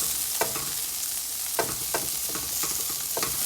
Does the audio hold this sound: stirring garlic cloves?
yes